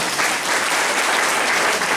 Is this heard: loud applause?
yes